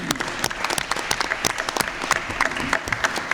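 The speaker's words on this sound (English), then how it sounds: "So let's give them a round of applause" Crowd at a county board of supervisors meeting held in a high school giving a round of applause for staff, a full, lively burst of many hands clapping with distinct nearby claps popping out, no one speaking.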